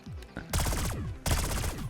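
Rapid bursts of cannon weapon fire in Black Ops 6 Zombies, two dense volleys of loud crackling shots separated by a short gap.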